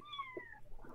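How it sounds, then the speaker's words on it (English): A house cat meows loudly and close by, one drawn-out meow with a falling pitch, then a softer short follow-up sound. "The timing of that meow,"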